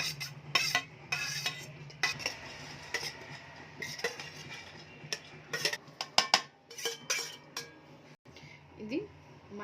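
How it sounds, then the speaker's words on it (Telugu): A spoon clinks and scrapes in a bowl of mint coriander chutney in a kitchen, in irregular taps and stirs close by, with quiet background noise between the strokes. "ఇట్లా బౌల్లోకి వేసుకుని కలిపి చూపిస్తాను"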